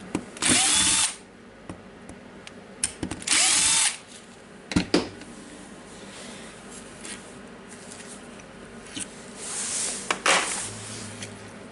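A power drill unscrews screws on an old Makita BHR240 hammer drill, giving several short, loud whirring bursts separated by quiet gaps, with light clicks and handling noises between them.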